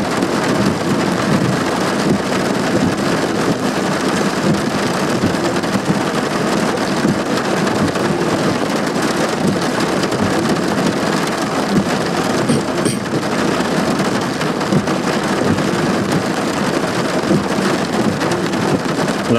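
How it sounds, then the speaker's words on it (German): Heavy thunderstorm rain drums steadily on the roof and closed windows of a car, heard from inside, a dense, loud, unbroken patter with no voices. "Ein kleines, privates Gewitter direkt vor der Haustüre."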